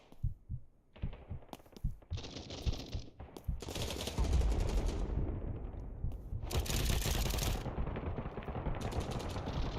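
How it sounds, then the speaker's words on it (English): Loud gunfire in the BattleBit shooter video game: rapid automatic bursts and single shots in an uneven rhythm, close and harsh, with little talk. "Bullets are loud."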